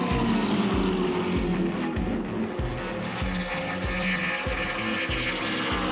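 Race trucks come around turn one of a banked track, a loud, steady engine roar with rapid rhythmic pulses as they pass close by, with no talking.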